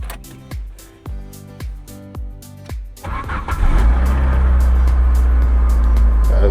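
A used car's engine is cranked by the starter in a rhythmic churning, then catches and settles into a loud, steady idle, close by and with no voices.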